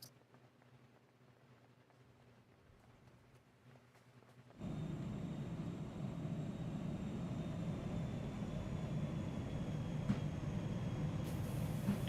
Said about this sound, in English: There's a plane flying around.